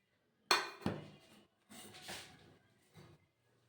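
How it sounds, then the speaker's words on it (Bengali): A knife loosens a baked chocolate sponge cake from its tin before it is turned out onto a plate, giving a few close metallic clinks and scrapes in short bursts with pauses between them. "কেকটা আমি ডিমোল্ড করে নিচ্ছি একটা ছুরি দিয়ে।"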